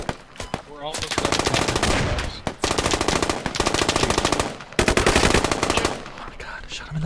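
Rapid automatic gunfire in the shooter game Squad, long fast bursts of close, loud shots broken by brief pauses, with a voice briefly audible among them.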